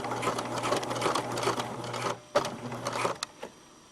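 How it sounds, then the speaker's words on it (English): A sewing machine stitches across the width of elastic in a steady mechanical whir, then stops and gives a few short bursts and clicks as it halts. "now I'm sewing across the width of the elastic"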